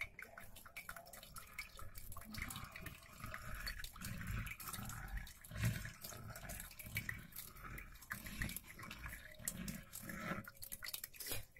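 Blended beetroot and carrot soup poured and strained through a sieve in a kitchen, a steady liquid trickling and dripping that runs on throughout with no one talking.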